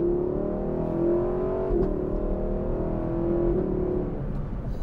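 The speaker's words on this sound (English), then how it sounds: "the LC500 comes with a 5-liter naturally aspirated V8, which is glorious." Lexus LC500 with its 5-liter naturally aspirated V8, a steady moderate engine drone with a couple of slight rises in pitch, heard alone without speech.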